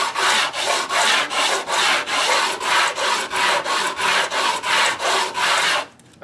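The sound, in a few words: hand sanding wood with 60 grit sandpaper on a scrap block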